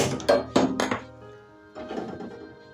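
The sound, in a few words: wok being placed on the stove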